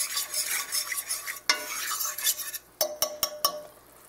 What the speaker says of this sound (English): You got to stir it pretty good so you can cook that flour